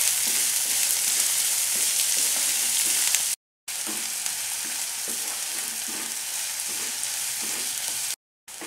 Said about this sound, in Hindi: इसमें हम 2 अनियंस डालेंगे chopped and 2 onions are about 100 grams और इसको हम फ्राई करेंगे।